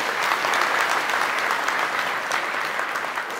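An audience at an invitation gathering claps loudly and continuously, a dense, close, energetic roar of hands that holds steady throughout.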